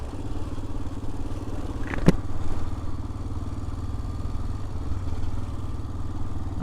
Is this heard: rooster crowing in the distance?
no